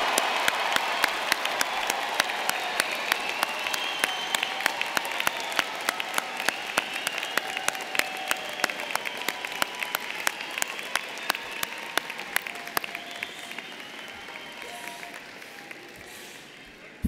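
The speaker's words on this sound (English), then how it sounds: "let's hear your loudest applause of the day for the UIC Business graduating class of 2019" Loud, sustained applause from a large commencement audience for a university business school's graduating class, dense clapping with sharp individual claps standing out, easing slightly toward the end.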